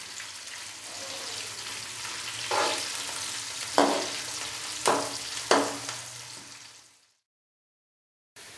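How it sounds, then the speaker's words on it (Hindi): Chopped onions fry in oil with whole spices for an aloo masala pulao, a close, steady sizzle punctuated by several sharp spoon scrapes and clacks, then sudden silence. "प्याज को अच्छे से फ्राई कर लेंगे तकरीबन गोल्डन ब्राउन होने तक"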